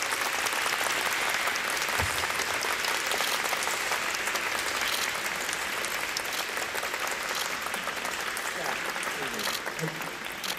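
Sustained audience applause at a film screening's stage greeting for the director and three cast members, dense and steady throughout with a faint voice briefly under it.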